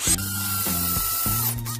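Power drill boring through stacked lumber, three short whirring bursts with brief pauses between them, close and clear.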